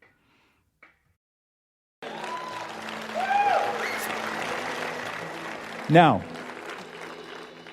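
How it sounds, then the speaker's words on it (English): An audience at a sermon breaks into applause after a moment of near silence. A crowd claps steadily and fairly loudly, swells, then keeps going under a single short spoken word and a brief cheer. "I can tell by the applause that most of y'all here are saved, right?"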